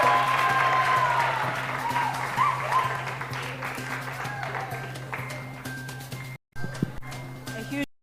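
Audience applause for Team Cavendish of Cavendish University at the Media Challenge Expo 2022, sustained clapping over a humming PA and background music, with a brief dropout near the end.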